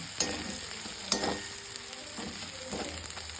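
Garlic browns in a pan of oil for chicken kosa, a soft steady sizzle broken by several scraping stirs of a spoon against the pan.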